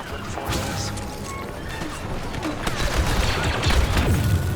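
Explosions and crashing impacts from a Star Wars Battlefront II multiplayer battle, a dense, continuous barrage of blasts and gunfire that grows louder toward the end, with faint voices in the mix.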